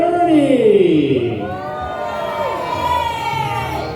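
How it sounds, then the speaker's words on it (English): A Medieval Times audience in Lyndhurst, New Jersey roars a loud, sustained birthday cheer, many voices shouting together, with an announcer's amplified voice carrying over the crowd. "A mighty birthday cheer for Lord Ernie."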